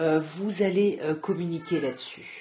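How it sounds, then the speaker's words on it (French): A house cat meows repeatedly in drawn-out, agitated cries close to the microphone, overlapping with a person talking. "Pardon pour le chat qui nous fait cette petite crise de folie."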